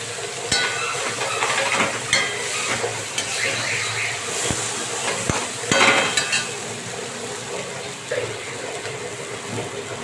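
Eggplant and a rohu fish head being sautéed in a pan, with a steady sizzle and repeated scraping stir strokes over about ten seconds, close and fairly loud with no talk.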